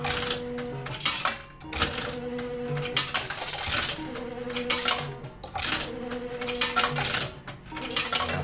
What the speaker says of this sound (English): That coin's disappeared into the back. Ain't it tapping to something inside the machine?